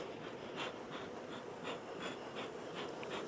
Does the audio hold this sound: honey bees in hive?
yes